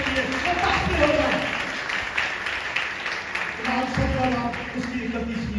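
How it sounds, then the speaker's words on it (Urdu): A church congregation breaks into sustained clapping for Jesus Christ, a dense wash of many hands that continues under a preacher's voice. "تالیاں بجانے کے لیے یسوع مسیح کے لیے"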